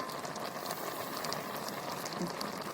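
Water bubbles and simmers in a cooking pot with prawns and gourd, a soft continuous low burble with faint pops, heard fairly quietly throughout.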